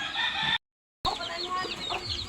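Farm chickens cluck and squawk in a pen as they are fed, hens calling in quick overlapping bursts close by, broken by a brief gap of silence.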